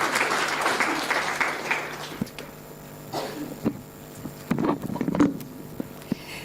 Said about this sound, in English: Please give her a round of applause for Dr. Tamari.